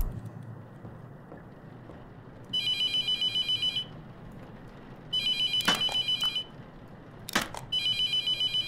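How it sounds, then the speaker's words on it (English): A telephone rings in the horror video game The Mortuary Assistant, three bursts of a bright electronic trill over a low ambient hum, with a couple of other thuds in between. "No, I'm not going to answer the phone."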